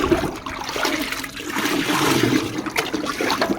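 Water splashes and gushes as it is poured and mixed into churned, well-soured curd to make buttermilk for a brinjal pest-control spray, a loud, continuous watery rush without speech.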